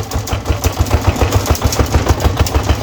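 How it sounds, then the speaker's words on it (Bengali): Engine of a motorized cargo van, a small rattling vehicle, putters with a steady rapid thumping pulse, loud and close throughout with no voices over it. "আর আমার ভটভটির আওয়াজের কারণে তোমরা হয়তো আমার কথাগুলো শুনতে পাচ্ছ না,"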